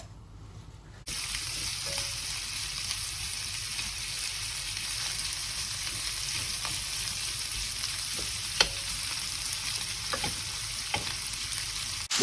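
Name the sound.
chorizo and shrimp sizzling in a hot pan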